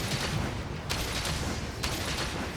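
Shrapnel ammo fired from a ranged weapon in Monster Hunter Rise training, heard as a steady broadband roar of rapid blasts with a few sharper cracks standing out.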